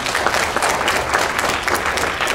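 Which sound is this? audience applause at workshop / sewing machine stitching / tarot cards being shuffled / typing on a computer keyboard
audience applause at workshop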